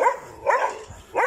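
A small dog outdoors on a street in Laranjeiro, Almada, Portugal barks in three sharp, close yaps spaced across the moment, with no talk over them.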